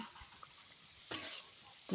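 Teasel gourd with onion and chili frying in a pan, a soft steady sizzle with a louder burst of stirring midway and a clatter at the end.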